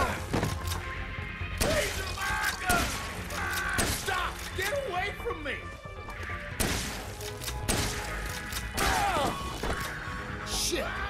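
Shotgun blasts in Dead Rising Deluxe Remaster during the Cletus psychopath boss fight: several heavy, sharp booms spaced a few seconds apart, mixed with thuds and crashes under bursts of talk.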